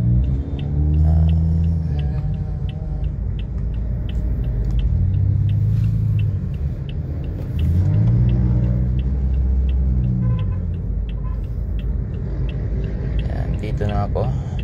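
Midday road traffic rumbles outside a Toyota Vios, a low steady engine and road hum from inside the car with regular ticking, under someone talking throughout.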